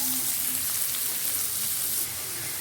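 Onions frying in a pan with a pinch of rock salt for a fish masala, a continuous close sizzle and hiss that eases slightly toward the end, with no talk.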